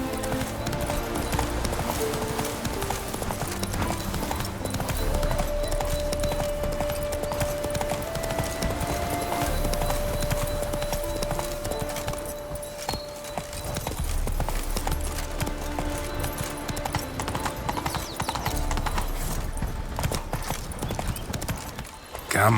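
Horse hooves clip-clop at a steady gallop in The Witcher 3, continuous and fairly close over about twenty seconds, with a soft background music bed and occasional faint game voices.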